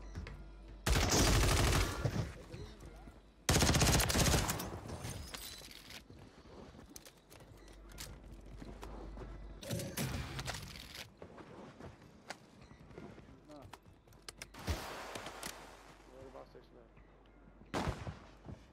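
Automatic Glock pistol fitted with a switch firing in the video game Warzone, several loud rapid full-auto bursts separated by quieter stretches with footsteps and occasional speech.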